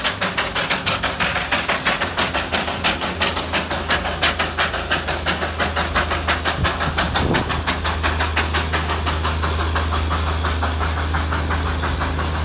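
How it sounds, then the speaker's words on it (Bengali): A small toy train in the North Bengal hills near Kalimpong chugs steadily, its rapid rhythmic puffs and rail clatter loud and close under a constant low engine drone. "পথে যেতে যেতে সঙ্গী হলাম সেই বিখ্যাত টয় ট্রেন"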